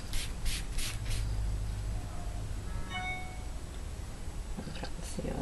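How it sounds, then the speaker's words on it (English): Pan Pastels rubbed onto tissue paper in soft, close, continuous scrubbing strokes with faint light clicks, no talk heard. "If you keep rubbing them in, you"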